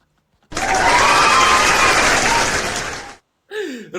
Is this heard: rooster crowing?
no